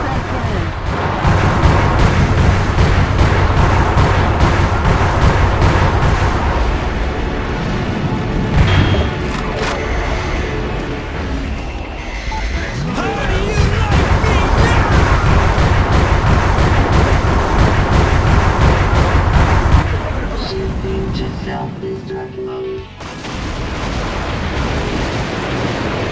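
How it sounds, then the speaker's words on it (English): Video game explosion as the Alcatraz cannon is blown up: a long, heavy rumbling blast with sustained low roar and debris, fading briefly mid-way then surging again before settling into a quieter rumble near the end. "the soldiers blew up the Alcatraz cannon"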